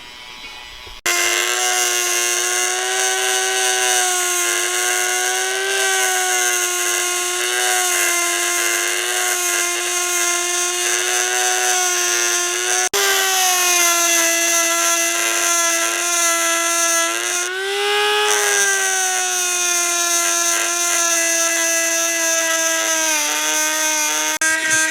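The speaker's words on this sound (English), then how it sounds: "Let's grind this thing down." Grinder working down metal during a turbo install on a Mazda RX-7 FD, a loud, continuous high-pitched whine with slight pitch wavering as pressure on the workpiece changes, close up and steady for nearly the whole stretch.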